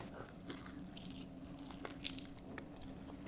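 Quiet bites and chewing on a cooked pork rib seasoned Texas-style with salt and pepper, soft crunchy clicks and mouth sounds close to the microphone.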